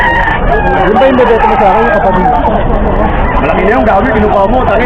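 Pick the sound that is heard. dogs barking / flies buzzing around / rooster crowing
rooster crowing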